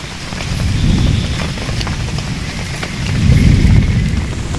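Heavy rain pours down at a campsite, a loud dense roar of drops with deep rumbling swells of thunder rising and falling throughout.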